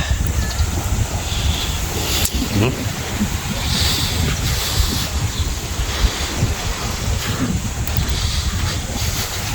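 Steady wind and surf rushing along a shoreline in the Philippines, a continuous broadband roar with gusty buffeting against the microphone.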